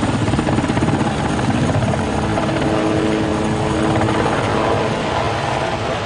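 A helicopter near the Jeanne d'Arc helicopter carrier in the 1990s roars loud and close, its rotor thudding in a steady rapid beat under a constant broadband engine noise, with no voices.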